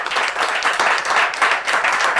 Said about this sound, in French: on applaudit très fort toutes ces interventions